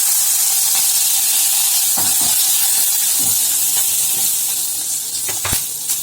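Loud, steady sizzling of hot oil tempering green chili and curry leaves for chickpea sundal, a continuous hiss with occasional sharp crackles and pops near the end.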